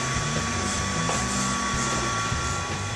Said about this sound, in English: This is the big mixer in action. This will mix up the whole 60 egg mix in one go.